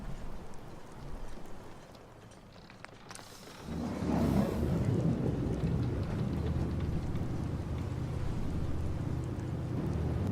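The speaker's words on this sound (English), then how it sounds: "It's stormy in the Commonwealth. It's pretty goddamn stormy." A thunderstorm rolls in Fallout 4's Far Harbor, with steady rain hissing and a deep rumble of thunder swelling after a quiet, muffled stretch. The storm stays loud and continuous, with no talk over it.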